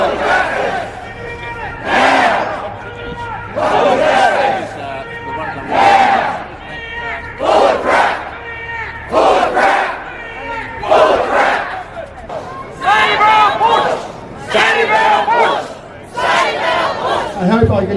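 A rally crowd gathered to save the bush lets out repeated loud bursts of cheering and shouting, rising and falling in rhythmic waves roughly every two seconds.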